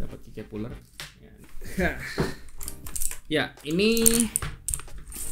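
A full-size Fantech MK852 keyboard with clicky Outemu Blue switches gives off a quick run of sharp, close keystroke clicks at the start. A person then talks over scattered further clicks.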